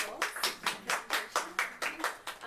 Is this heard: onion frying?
no